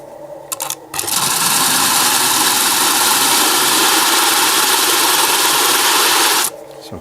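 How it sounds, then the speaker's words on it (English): A power sander smooths one face of a segmented wooden disc, starting after a few knocks and running as a loud, steady whirring grind for about five seconds before cutting off. "this is a pretty effective technique to at least get one side of a segmented disc sanded smooth."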